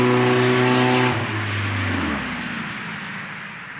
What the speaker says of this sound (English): Please excuse me as a rice burner goes by.